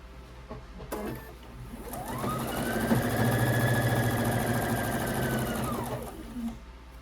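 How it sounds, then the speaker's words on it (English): Domestic sewing machine stitching the top and bottom halves of a quilt together, a steady close whirring run of about five seconds that ramps up and winds down, with faint handling noise before it. "Now I am sewing the top and the bottom half of the quilt together"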